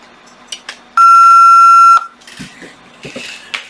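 A home alarm panel keypad, reconnected to its battery and power transformer, gives one loud, steady electronic beep lasting about a second, followed by faint handling noises and rustling nearby.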